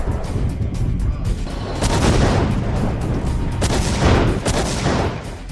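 Warship weapons fire during an air defence test, a dense fusillade of rapid booming shots that swell and fade in overlapping bursts, loud and continuous with no talking.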